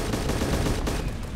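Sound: gunfire in a military video game

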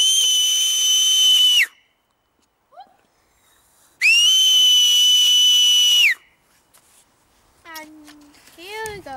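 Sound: loud high-pitched whistle to call horses

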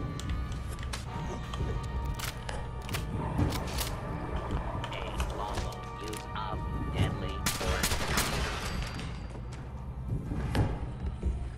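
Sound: gunfire in Fallout 4 video game

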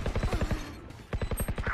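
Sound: sentry turret being deployed in video game

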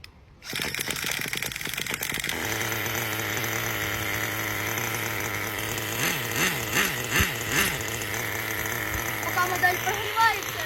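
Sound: model engine running while warming up for carburetor tuning

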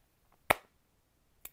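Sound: hand clap

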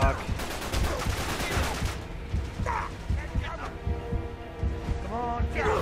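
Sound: gunfire in the video game Uncharted 3

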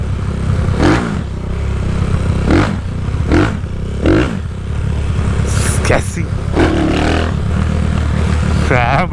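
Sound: Honda Today motorcycle engine revving after a year abandoned

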